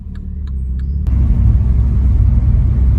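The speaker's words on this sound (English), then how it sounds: "the car's warmed up and this exhaust sounds crazy." Mini John Cooper Works exhaust, warmed up, rumbling loud and deep, jumping in level about a second in and holding a steady heavy drone.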